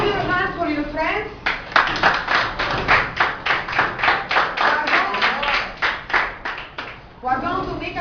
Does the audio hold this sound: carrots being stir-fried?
no